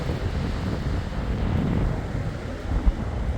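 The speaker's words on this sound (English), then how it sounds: "Gotta steady myself against these winds." Strong wind gusts roar steadily across an exposed ridge in the Smoky Mountains on a rainy day, a constant low buffeting rush close to the microphone with a brief thump near the end.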